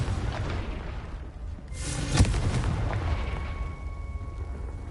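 A Confringo fire spell explodes in Hogwarts Legacy as a single sharp, loud boom about midway, followed by a crackling, fading rumble over background game sound.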